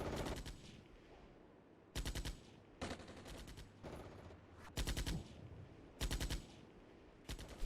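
Short bursts of automatic gunfire from a soldier in the war game Armored Brigade, set in a Russian invasion of Finland. Six or so sharp, loud volleys come at irregular gaps, with a faint crackle of distant fire between them.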